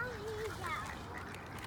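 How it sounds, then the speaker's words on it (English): Outdoor bird calls, including a Canada goose's honking cry, sound over a steady breezy background, with a voice speaking in the mix. "There's all kind of birds out here today."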